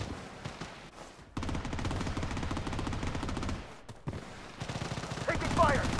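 Rapid automatic gunfire in the shooter game Blood Strike, dense bursts that pause briefly and then resume, loud and close, with a short shouted voice near the end.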